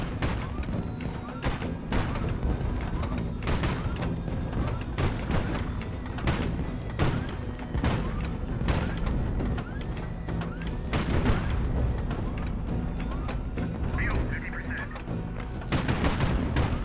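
Naval gunfire volleys in the video game HighFleet, a dense continuous barrage of booming shots and impacts lasting throughout, loud with faint background voices mixed in.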